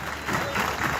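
Steady applause from a crowd at a property dealers association directory launch, a continuous dense patter of clapping throughout, moderately loud with no voices standing out.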